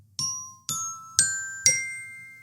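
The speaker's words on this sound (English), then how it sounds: "The little chime?" A game show's little chime effect rings four clear, bright dings in a rising sequence, each struck at a steady pace and left to ring out with no talk.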